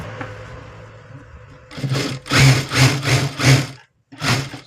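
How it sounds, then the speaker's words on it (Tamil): A sewing machine stitching a plain blouse runs in several short, loud bursts of rapid whirring after a quiet start, with brief pauses between runs. "இந்தமாரி நல்லா அழுத்தி தைக்கணும் சாதா ஜாக்கெட்லாம்."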